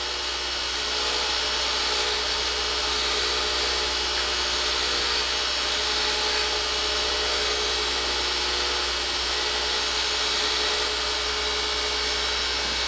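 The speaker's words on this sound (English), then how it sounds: "Now bring in my skew chisel and lightly bring this down to the bushing." A pen blank spins on a wood lathe while a skew chisel cuts it down toward the bushing, making a steady, loud motor whine with a hissing cutting noise throughout, no pauses and no voices.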